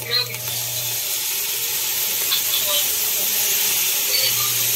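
Soy sauce hits beef pares in a hot pan, giving a steady broad sizzle and hiss throughout with a faint low hum, a quieter kitchen sound with no clear talk over it.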